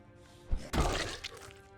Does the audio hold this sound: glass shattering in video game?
yes